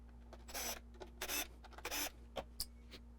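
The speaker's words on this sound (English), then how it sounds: "we'll go ahead and pull those 3 screws out" A Phillips bit removes screws from the plastic steering wheel housing of a Thrustmaster TS-PC Ferrari 488 Challenge Edition, with several quiet ratcheting whirs and scrapes in short bursts and small ticks over a low hum.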